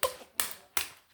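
Slime being clapped between the hands, three sharp wet slaps spaced evenly about a third of a second apart, each decaying quickly, close and alone.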